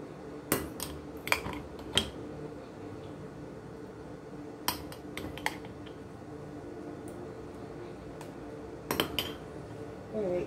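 A spoon scooping sea moss gel from a container: a few faint, close clinks and soft wet taps in small clusters, separated by quiet room tone, with no talking.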